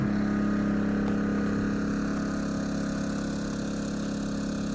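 A Yamaha EF2000is inverter generator runs steadily outdoors in sub-zero cold and snow, a continuous even engine drone with a low mechanical hum, loud and close, with no talking.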